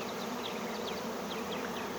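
A swarm of honey bees gives off a dense, steady buzz with individual bees whining past, while fanning bees keep up a constant drone, moderately close and continuous.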